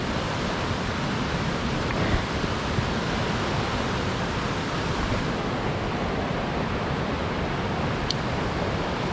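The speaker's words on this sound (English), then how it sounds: "There's the river." A river flowing in a mountain valley on a fly-fishing camping trip, a steady broadband rush of water filling the whole stretch, close and constant, with no voices.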